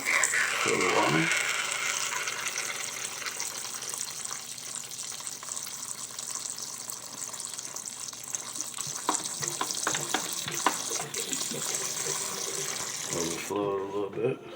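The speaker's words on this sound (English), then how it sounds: "Fill the water." Water poured from close by into a water dish in a tarantula enclosure, a steady loud splashing and trickling that runs on as the dish overflows, with a brief voice near the end.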